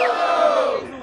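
A rap battle audience in Piracicaba yells and cheers for a rapper, a loud, continuous crowd roar with shouts that fades slightly toward the end.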